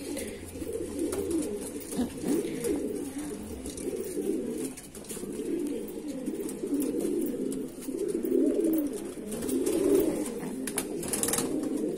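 Pet pigeons of Indian fancy breeds coo at close range, a continuous low warbling murmur of overlapping coos from several birds, steady throughout, with no talk.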